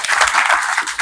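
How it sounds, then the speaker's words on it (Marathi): A crowd at a Dnyaneshwari religious ceremony in a village claps together in a brief, dense, close burst of applause. "टाळ्या वाजवा सगळ्यांनी"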